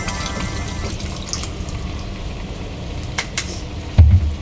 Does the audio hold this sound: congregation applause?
no